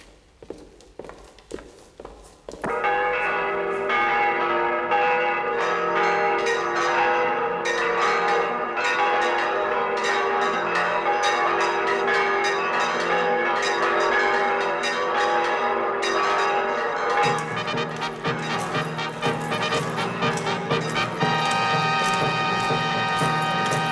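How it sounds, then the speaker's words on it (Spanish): Church bells peal in celebration across a kingdom's cities and towns, a dense, continuous and loud ringing that swells in after a few seconds of footsteps and carries on without a break. "Y vos, Zafra, ordenad que en todas las ciudades y villas del reino lancen las campanas al vuelo"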